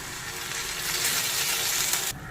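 Pieces of elephant foot yam and prawns frying in a pan, a loud, continuous crackling sizzle with stirring scrapes that drops away abruptly near the end.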